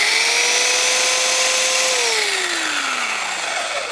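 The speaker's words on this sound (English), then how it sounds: "So I have a belt sander right here." A belt sander runs steadily while smoothing welded sheet metal, a loud, continuous whine whose pitch holds level, then slides lower as the belt bears down on the metal, with no voices.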